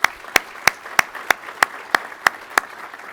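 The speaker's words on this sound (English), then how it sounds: "I'd like to ask for a round of applause for the leaders of Vance." At a pilot training graduation ceremony, someone claps slowly and evenly, about nine sharp, close claps spaced roughly a third of a second apart, with faint room noise between them.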